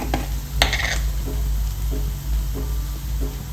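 Chopped onions sauté in a hot pan for a stuffed squid dish, giving a steady soft sizzle with a few light stirring scrapes and one brief clatter near the start, close and even throughout.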